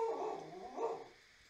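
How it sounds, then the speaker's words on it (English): A dog gives two short, faint barks or whimpering yips in quick succession, distant and alone. "I think my dog is barking"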